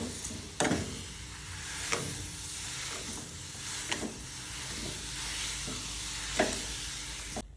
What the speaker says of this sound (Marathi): कढईमध्ये किसलेले रताळे टाकायचे. 1 वाटी साखर टाकायची. छान मिक्स करायचं.